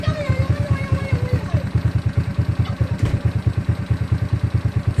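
A GY6 scooter engine idling close by with a rapid, regular pulsing chug that weakens slightly as the RPM drops, with someone speaking over it.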